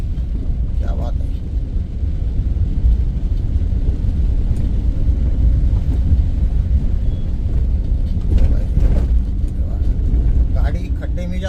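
A car rolls over a potholed, rain-soaked road in Nashik, with continuous loud low road and engine rumble and a few brief bumps and splashes, while someone talks throughout.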